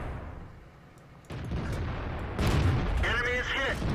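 Tank cannons fire in World of Tanks, with a couple of heavy booms that each kick in abruptly, followed by rumbling engine and battle noise, while someone talks over the game sounds.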